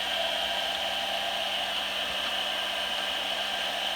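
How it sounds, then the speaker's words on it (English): Handheld blow dryer running steadily over sheets of copy paper, a constant airy whooshing hiss with a faint motor hum, even in level throughout and close by. "I'm going to put this over here underneath a blow dryer and let this dry off"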